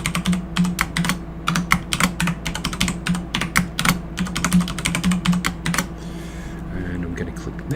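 Quick, uneven runs of keystrokes on a computer keyboard as a password is entered, clicking close up over a low background hum before the typing trails off.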